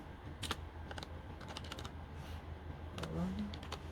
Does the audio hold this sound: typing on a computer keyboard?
yes